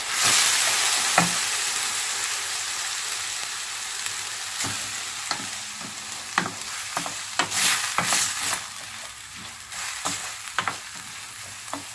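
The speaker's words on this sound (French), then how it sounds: "il faut que la matière grasse enrobe bien les grains de riz, c'est très important." Washed, well-drained rice grains fry in fat for an oriental curry and raisin rice dish, a steady close sizzle broken by irregular scraping strokes of stirring, with no talk.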